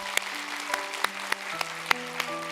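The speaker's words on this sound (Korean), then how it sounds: "여러분 박수 한번 해주세요." A church congregation claps after an infant baptism at a Christmas service, giving a sparse, rhythmic patter of claps over sustained organ-like tones.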